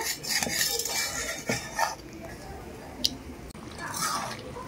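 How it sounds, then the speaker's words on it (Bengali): Jaggery being stirred into hog plum pickle in a pan, with scraping and clinking of a utensil against the metal, a few sharp knocks amid soft stirring and moist sticky sounds. "গুড় দিয়ে একটু নাড়াচাড়া করে নেব"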